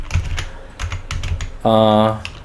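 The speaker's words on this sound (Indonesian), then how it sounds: "Saya akan ketik pin mode, pin output." Typing on a computer keyboard while entering Arduino code, a few scattered key clicks followed by a short electronic tone, all close and clear.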